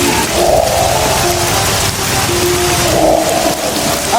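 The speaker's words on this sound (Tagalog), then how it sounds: "Umuulan, oh." Steady rain pours down in a dense, continuous hiss, loud and close, with a faint low rumble underneath.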